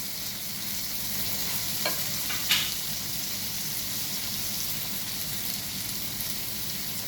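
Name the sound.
tomatoes and masala frying in a pan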